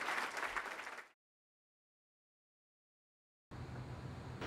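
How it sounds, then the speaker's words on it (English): An audience applauds at a political analysis talk about the 2014 Illinois Republican gubernatorial race, with about a second of dense clapping that cuts off abruptly into silence before a different steady noise begins. "Big round of applause."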